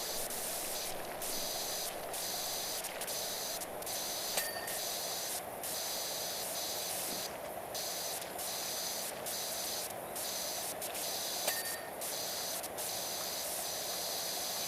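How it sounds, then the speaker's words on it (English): Steady high-pitched spray hiss of a pressure washer in PowerWash Simulator 2, running continuously with brief dips and pauses as the nozzle starts and stops, close and loud with no talking. "We'll spray that down"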